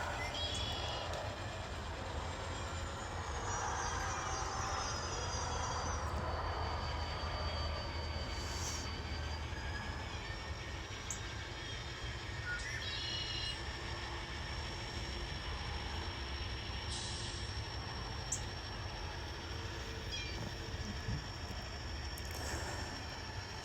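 A freight train led by a GP7 locomotive rolls steadily through crossovers at a rail interchange, giving a continuous low rumble with faint wheel squeal and scattered clicks all the way through.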